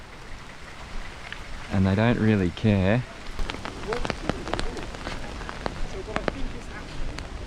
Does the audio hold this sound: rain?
yes